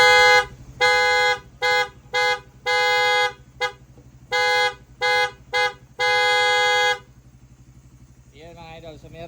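A custom 12-horn vehicle horn set plays a loud, close melodic pattern of tooting bursts of varying length, then falls silent as a voice begins speaking briefly at the end.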